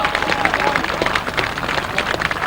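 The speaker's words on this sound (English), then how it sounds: "let's give him a round of applause" A crowd applauds a rider at a 2002 grasstrack race, a busy outdoor patter of clapping mixed with general crowd murmur, fairly loud and sustained throughout.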